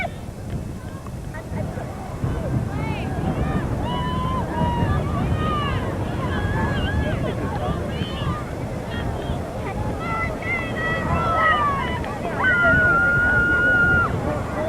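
A racing boat engine running at full throttle around a course, a continuous roar heard from a distance under crowd chatter, wind and someone commentating.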